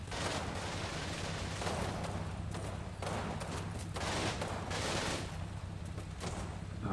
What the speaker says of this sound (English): I love it when people stand in the streets shooting.